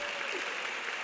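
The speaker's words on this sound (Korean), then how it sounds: "박수 한번 부탁드리겠습니다." Wedding guests burst into a short, dense round of applause during the vows, a steady wash of many hands clapping together.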